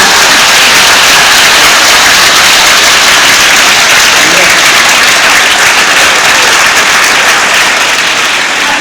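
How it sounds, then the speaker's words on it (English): Schoolchildren in a class assembly burst into deafening applause, a very loud, unbroken roar of many hands clapping close by, sustained at full intensity throughout. "Now a real deafening sound of applause is what I would like to hear."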